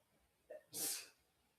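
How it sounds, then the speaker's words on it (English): A woman sneezes once, a short soft intake followed by a single sharp burst, fairly quiet and close in an otherwise quiet room. "My wife just sneezed."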